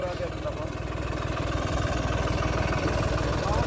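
A tractor pulling a harrow chugs in a fast, even pulse at close range, the engine note rising slightly as it turns, with a voice talking over it.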